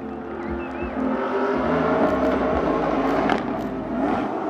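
Kyle Leduc's off-road race truck spinning at SEMA 2013, its engine droning loud and steady with revving surges and rising pitch, heard fairly close without talk.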